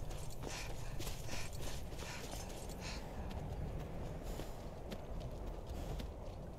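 Horse hooves clip-clop in the video game Skyrim, a steady, faint walking rhythm under a constant bed of ambient game noise, with no voices.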